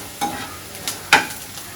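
Onions frying in a pan, with a soft continuous sizzle and three quick stirring scrapes, the last one the loudest, close and alone.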